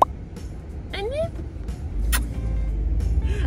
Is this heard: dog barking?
no